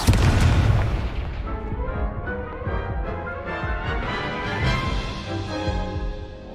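A Confringo blasting spell explodes in the Hogwarts Legacy video game, a loud booming blast at the start that rumbles and decays into layered game music and effects, with no talking.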